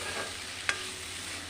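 Vegetable bhaji frying in a pan gives a quiet, steady sizzle with one short scrape of the spatula stirring it, close and alone without talk.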